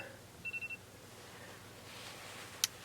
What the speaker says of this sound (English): Oh no, my alarm.